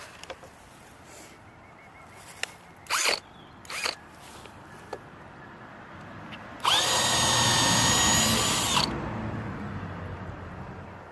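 A power drill drives bolts into a raised garden bed frame outdoors, with a few short clicks and taps first, then one loud sustained whirring run of about two seconds, close by.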